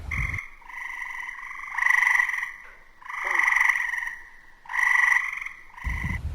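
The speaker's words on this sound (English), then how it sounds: "Gray tree frog." A gray tree frog calls in a series of loud, close musical trills, three stronger calls rising and falling in a steady rhythm against a quiet background.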